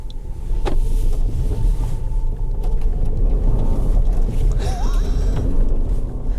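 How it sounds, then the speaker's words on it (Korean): A Jeep Grand Cherokee 4xe plug-in hybrid's engine kicking in under hard acceleration in electric mode, a loud continuous low rumble with a brief rising whine, no talking. "가속 페달을 일정 이상 밟으면 일렉트릭 모드로 놨지만 엔진이 일어납니다."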